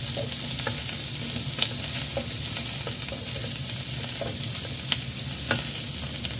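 Carrots and wood ear mushrooms stir-fried in a pan, a constant loud sizzle with scattered scraping stirs and light clicks of the utensil, close and without talk.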